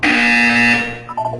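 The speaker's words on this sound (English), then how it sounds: "When you hear the buzzer, look down at the floor." A loud, sustained electronic buzzer tone from the Portal 2 video game sounds once alone for nearly a second, then cuts out into a brief trailing chime.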